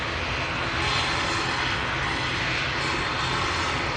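An Aer Lingus ATR 72 turboprop airliner arriving at Manchester Airport, a steady loud engine and propeller drone holding constant throughout, with no voices.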